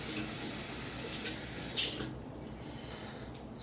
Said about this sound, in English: I'm just going to wet my brush a little bit.